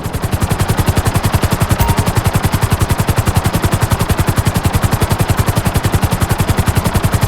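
Helicopter in the video game GTA V, its rotor chopping in a fast, steady rhythmic beat that stays loud and close throughout with no talk over it.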